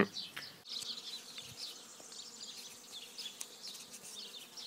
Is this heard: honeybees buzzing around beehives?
yes